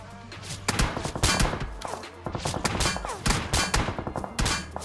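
Gunfire sprays at a BRDM armored vehicle in a shooter game, dense bursts of rapid automatic shots and sharp impacts coming in irregular volleys throughout.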